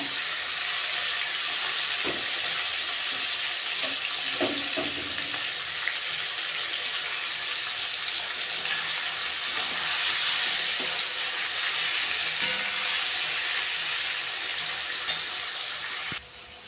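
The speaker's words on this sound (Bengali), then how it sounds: "ট্যাংরা মাছগুলো হালকা করে আমি বেজে নেব একবারে দিয়ে দিচ্ছি সব কটা" Tangra fish frying in oil make a steady, even hiss with scattered pops and a few clinks, heard alone without talk.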